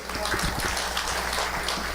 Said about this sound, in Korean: 이제 박수 한번